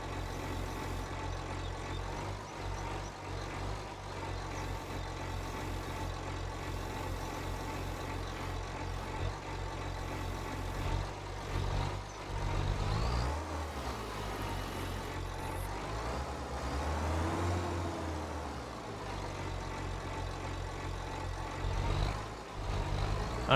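A vehicle in Farming Simulator 25 drives along with a low, steady, heavy engine rumble. The pitch shifts slightly as it slows and speeds up, with a brief hiss partway through.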